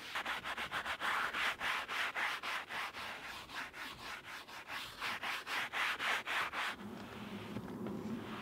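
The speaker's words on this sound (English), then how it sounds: "I just gave them a wipe using the cleaner and a microfiber towel." Microfiber towel wiping leather car seats with interior cleaner, a steady series of quick, rhythmic rubbing strokes, close and fairly loud, fading to a softer, duller rub near the end.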